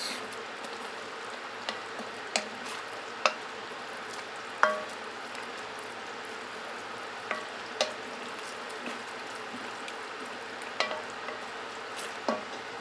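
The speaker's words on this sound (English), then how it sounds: "Give that a quick mix." Freeze-dried Mongolian ground beef noodles are stirred, giving a low steady hiss with sparse soft clicks and taps from the utensil, quiet and close.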